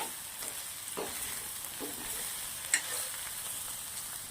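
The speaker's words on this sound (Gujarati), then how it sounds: "હવે આપણે આને મિક્સ કરી દઈશું. 2 મિનિટ જેવું આને સાંતળી લેવાનું છે." Okra with chilli, turmeric and pav bhaji masala fries in a pan, giving a soft, steady sizzle and a few faint stirring scrapes, with one brief sharp clink near the end.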